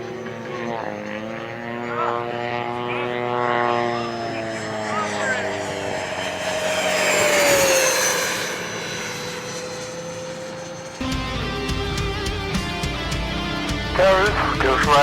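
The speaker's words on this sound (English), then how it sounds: "Towers, Ghost Rider requesting a flyby." A Freewing F-14 Tomcat 80mm radio-controlled jet makes a flyby, its ducted-fan whine rising and sweeping in pitch as it passes, loud and continuous before a cut to another engine roar.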